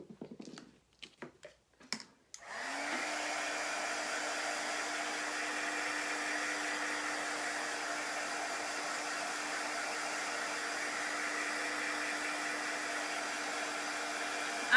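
A few sharp clicks and taps come first, then a heat tool or dryer starts up and blows with a steady, even roar while drying chalk paint on a sign.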